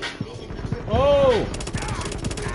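Gunfire in the video game The Division, including a shotgun, with sharp close blasts and a short rapid burst over background game noise, with a brief voice exclamation mixed in.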